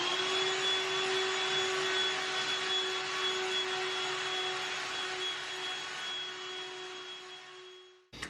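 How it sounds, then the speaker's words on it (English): A handheld cordless dust-buster vacuum cleaner runs indoors at home, a steady close whirring roar with a high whine that holds for about eight seconds, then cuts off abruptly. "The vacuum is going to work out so well down there."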